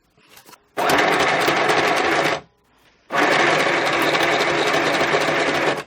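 Sewing machine running a small zigzag stitch through old book pages for a junk journal, in two loud continuous bursts with a short pause between them, close up and without talk.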